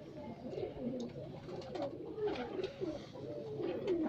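A pigeon coos softly and repeatedly over a low, steady background murmur, fairly faint and continuous throughout.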